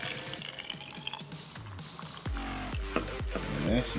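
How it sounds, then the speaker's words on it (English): Hot water is poured into a pickle jar with vinegar, a gurgling, rising stream that grows louder and fuller as the jar fills, with a few drips and clinks before it. "And finally, we'll add our hot water."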